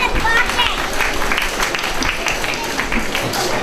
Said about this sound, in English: A great round of applause for all the parents.